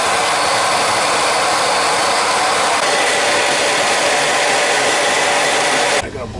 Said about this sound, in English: I gotta blow this oil line back.